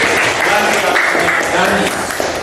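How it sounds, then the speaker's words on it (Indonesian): A classroom audience at an Islamic religious education lesson on Asmaul Husna applauds a student named Arjuna, a loud, continuous wash of clapping with some voices mixed in. "Tepuk tangan untuk Arjuna."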